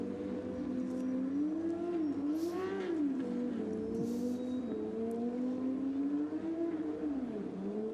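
A Porsche Carrera Cup race car at Zandvoort during the 2019 Race 10 holds a loud, continuous engine note whose pitch wavers and dips as it closes on the start-finish line, with no talk.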